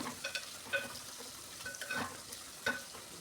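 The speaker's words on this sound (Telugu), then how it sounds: "ఈ ఉల్లిపాయ ముక్కలు వేసుకొని దోరగా వేయించేసుకోవాలి" Onion pieces fry quietly in a pan, a faint steady sizzle with scattered light stirring clicks and scrapes.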